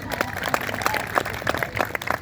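Scattered clapping from a stand-up comedy audience, a modest, uneven patter of hand claps with irregular louder bursts, fairly close.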